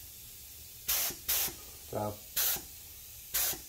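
A paint spray gun sprays Majic paint onto Farmall Super A tractor parts in five short hissing bursts, each about a third of a second, close by, with someone speaking briefly between them.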